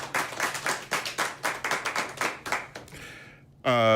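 A studio crowd claps in a burst of rhythmic applause, a dense patter of hands close by that fades near the end before a voice cuts in.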